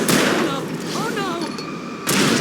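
Gunfire in Alan Wake Remastered during a tense hold-off while waiting for an elevator: sharp loud shot blasts at the start and again near the end, with shouting voices and rumbling game ambience in between.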